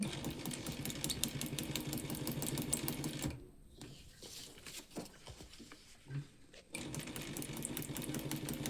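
A sewing machine stitches practice lines on paper, its rapid needle chatter steady and close, then pausing partway through with softer scattered handling noises before the stitching resumes at full pace.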